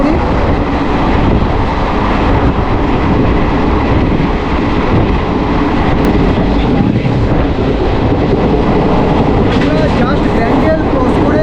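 Howrah–Suri Hool Express running at about 108–113 km/h past Bandel toward Bardhaman, a loud steady roar of wheels and carriage rumble heard from inside the coach.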